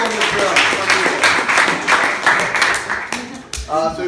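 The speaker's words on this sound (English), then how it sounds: "let's give a round of applause to everyone's talk today" Audience applause after talks at a gathering, steady dense clapping from a room of people throughout, with voices mixed in and a few louder cheers toward the end.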